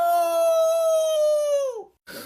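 A human voice imitates a werewolf howl, holding one long, steady, rising-then-falling tone that fades out, followed by a brief burst of noise.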